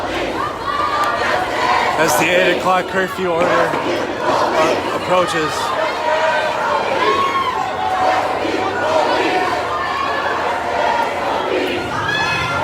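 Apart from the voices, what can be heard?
protest march crowd on a Minneapolis highway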